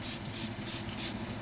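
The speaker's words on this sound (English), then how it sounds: "I'm going to use some Milani setting spray." Milani setting spray hisses out in four short, evenly spaced bursts, each a bright airy spritz close to the mic, with a quiet low hum between them.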